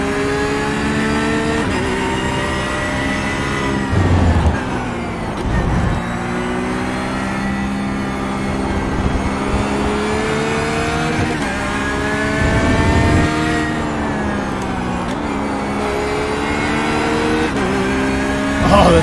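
A GT3 race car engine in a racing simulator wails loudly through repeated revving climbs and drops as it shifts gears, steady and close, with brief lifts and a faint tire squeal.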